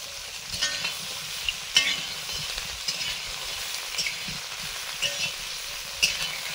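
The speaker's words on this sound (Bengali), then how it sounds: "ফুলকপি আলুগুলো ভেজে নিচ্ছি।" Parboiled cauliflower and potato pieces fry in hot oil with a steady close sizzle, occasional louder pops and stirring clinks throughout.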